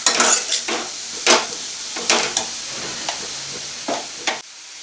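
Salted onions frying in a pan, a loud close sizzle broken by repeated scraping strokes of a spoon stirring against the metal, ending abruptly.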